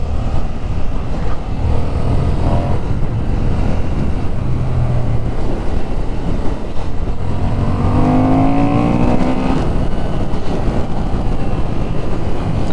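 A 2025 Honda Hornet 750 motorcycle ridden along a bumpy road gives a steady, loud engine drone mixed with constant wind rush over the microphone, with no talking throughout.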